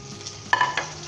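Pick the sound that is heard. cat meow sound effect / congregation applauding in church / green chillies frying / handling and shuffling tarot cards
green chillies frying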